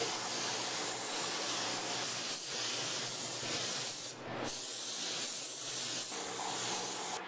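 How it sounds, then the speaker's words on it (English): An automotive spray gun applies base coat paint during a body repair, a steady, loud, continuous hiss of atomized paint and air running without pause, dipping briefly around the middle before resuming. "Use a detail spray gun where appropriate to keep the repair to a minimum."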